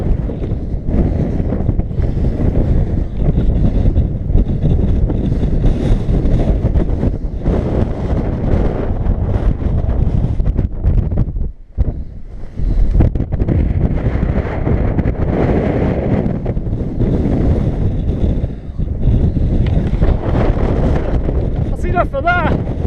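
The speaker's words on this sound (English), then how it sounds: "Oh, serious conditions up here. Very windy." Strong wind buffets the microphone on an exposed summit in the Clwydian mountain range, a loud continuous roar with a brief lull near the middle. Someone talks over it.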